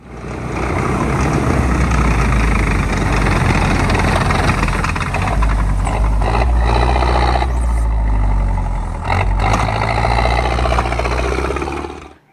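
A tank engine runs loud and steady out in open wilderness, its deep rumbling drone holding for the whole stretch with small shifts in load and no voices.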